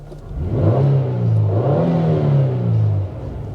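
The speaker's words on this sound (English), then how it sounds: "It has a pretty good noise, revving up and down." A Nissan Elgrand E50, a 90s JDM luxury minivan, has its engine revved up and down twice at close range, the pitch climbing and falling in smooth sweeps over a steady idle.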